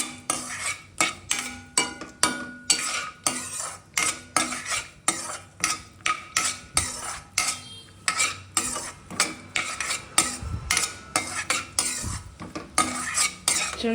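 Cashews and raisins fry in oil in a pan while a spoon clinks and scrapes against the metal in a steady, rapid rhythm, with a faint sizzle beneath.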